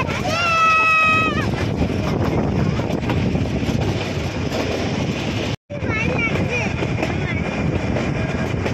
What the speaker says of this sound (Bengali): নীলগিরি পর্বতের উপর দিয়ে আমাদের ট্রেন ছুটে চলেছে, ঝিকঝিক ঝিকঝিক।